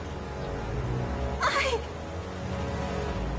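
A cat gives a single short meow, a rising-and-falling cry over steady background noise.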